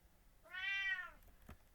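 A house cat gives a single clear, drawn-out meow close by, rising and then falling, followed by a faint tap in an otherwise quiet room.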